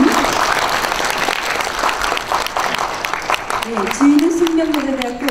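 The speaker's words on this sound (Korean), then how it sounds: "힘찬 박수와 환호로 맞아주시기 바랍니다" A concert audience claps and cheers steadily for a women's alumni choir from a girls' middle and high school, with a voice rising over the applause near the end.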